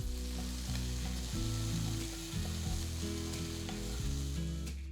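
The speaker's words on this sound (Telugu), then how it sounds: "వీటన్నిటిని 5 నిమిషాలు వేయించాలి" Chopped vegetables sizzle and fry in a pan for cheese fried rice, a steady crackling hiss with occasional scraping stirs of a utensil, close and moderately loud, with no voices.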